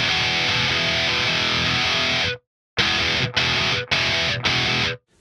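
Heavily distorted electric guitar chords from a rock riff ring out loud and sustained without palm muting, one long held chord, a brief gap, then a run of quick stabs that bleed into each other.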